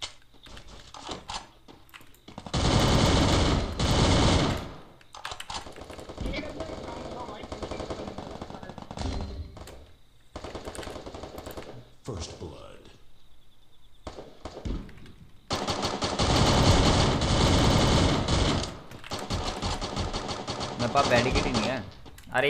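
Rapid automatic gunfire from the battle-royale shooter Free Fire, loud bursts of several seconds each separated by quieter stretches of game sounds, with players talking over the action.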